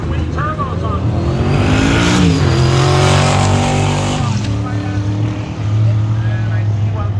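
A twin-turbo Ranger drag racing down the strip roars loudly and steadily for several seconds, its engine note rising and shifting, with an announcer talking over it.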